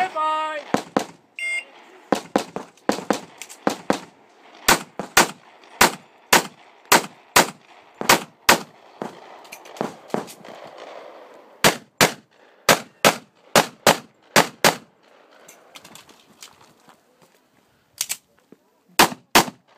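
Repeated gunshots at an outdoor shooting range, sharp loud cracks fired in irregular bursts and single shots over about twenty seconds, with a brief spoken command and occasional voices between volleys.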